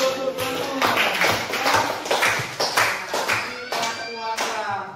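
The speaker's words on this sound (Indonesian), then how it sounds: "Wah, Gustavo, tepuk tangan dulu." Students in a mathematics classroom clap their hands together in a close, fairly ragged series of sharp claps, with a few voices heard among them.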